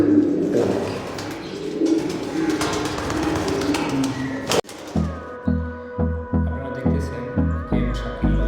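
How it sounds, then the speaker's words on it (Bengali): Pigeons let out on a house rooftop in the morning coo softly amid light outdoor noise, and partway through a steady music track with a regular beat starts and plays on to the end. "কবুতরগুলো ছাড়ছি কবুতরের কার্যকলাপ দেখ"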